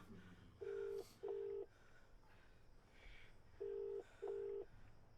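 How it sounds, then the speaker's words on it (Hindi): Four electronic keypad tones beep in two quick pairs, each a short steady pitch, over quiet room hiss. "किसको फोन लगा रहा है?"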